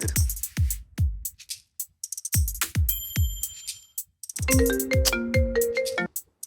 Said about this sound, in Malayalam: ഇനി ആരെ വിളിക്കാം? ലക്ഷ്മി വിളിച്ചിട്ട് കുറെ നാളെ. അവളെ വിളിക്കാം.